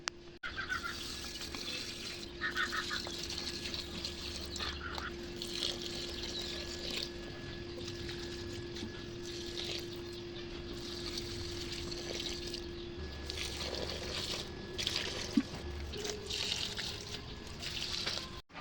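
Water pours steadily onto potted plants at home, a continuous soft splashing and trickling that runs the whole stretch with a low steady hum underneath and no talking.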